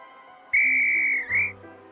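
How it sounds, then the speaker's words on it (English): A cartoon whistle from the I Spy: Fun House PC game toots once in a long steady shrill note, then gives a short second blast, loud and clear with no talk over it. "A whistle."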